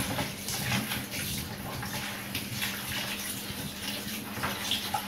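Tap water runs steadily into a sink or basin as chicken is washed for a Jamaican red peas soup, a continuous, fairly soft splashing hiss with no talking.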